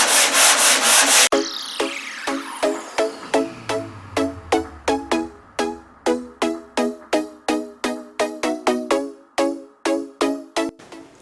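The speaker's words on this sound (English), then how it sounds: "so just going on and sanding, seeing what I'm getting for high spots and low spots" Hand sanding 2K build primer on a Triumph Spitfire passenger door: about twenty steady, rhythmic rasping strokes, close and fairly loud, with no voices.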